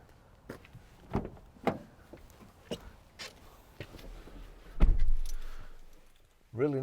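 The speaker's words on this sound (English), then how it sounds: "2 keys here." Keys to a Ford Transit Custom 2.0 TDCi Trend van jingle in a few brief metallic clusters, followed by a louder thump like a door closing, with quiet room tone around them.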